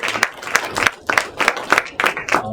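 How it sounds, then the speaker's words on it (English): A forum audience applauds a panel of speakers, a short burst of many hands clapping at a steady, moderately loud level with no voices over it. "Maybe give them a round of applause."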